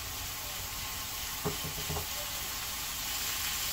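Marinated liver, prepared with vinegar and garlic, sizzles and fries in oil on a tawa griddle, with a steady close hiss and a couple of brief stirring clatters partway through.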